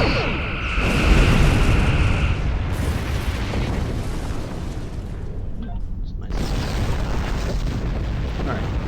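Starship weapons in Star Trek Online fire a spread volley, with heavy explosions rumbling loudly and continuously over a dense space-battle soundscape while a voice gives commands.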